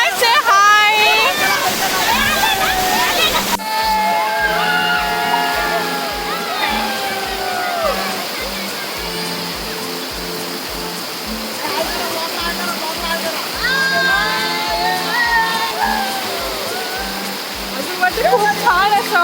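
A large monsoon waterfall near Bhatwadi makes a steady broadband rush of falling water that runs throughout, overlaid by rhythmic music and voices.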